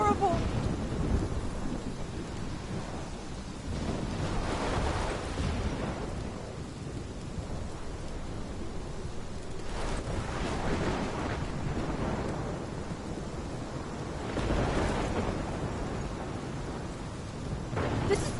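Thunderstorm from the video game Life is Strange Remastered, with steady heavy rain and wind and several deep rolling thunder rumbles swelling and fading across the scene.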